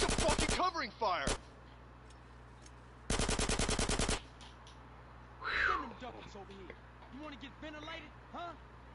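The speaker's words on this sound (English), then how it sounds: "Give me some fucking covering fire." Two loud bursts of automatic gunfire in GTA San Andreas, each lasting about a second, with voices talking in the gaps between and after the shooting.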